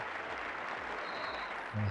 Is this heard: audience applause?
yes